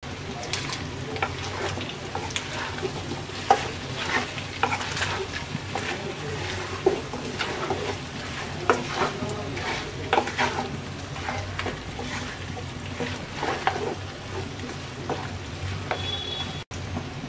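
Small onions and broken green chilies frying in oil in a pan for Bangladeshi kala bhuna: a continuous close sizzle with repeated spatula scrapes and stirring clatter throughout.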